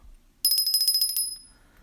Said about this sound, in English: Let me get my bell.